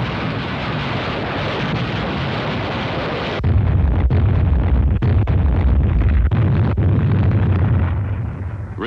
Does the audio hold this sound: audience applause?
no